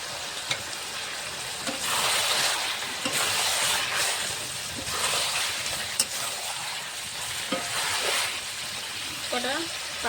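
Chicken curry with fried potatoes sizzling steadily in a pan while being stirred, the hiss swelling with each scrape of the spoon, with occasional voice underneath.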